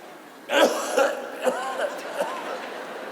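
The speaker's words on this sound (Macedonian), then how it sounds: "Тука треба да кашлате." A person coughs several times in short bursts with gaps between, close and fairly loud, against a quiet background.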